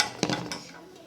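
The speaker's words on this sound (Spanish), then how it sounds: "Vas a revolver." Slime being stirred in a container, heard as a brief burst of wet clicking and scraping strokes with light clinks, close and fairly quiet, lasting about a second.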